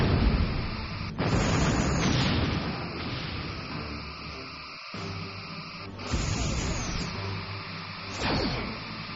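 Repeated heavy torpedo explosions in the Star Trek Bridge Commander space combat game, loud booming blasts with rumbling tails at irregular intervals over a constant sci-fi background hum, with no talk.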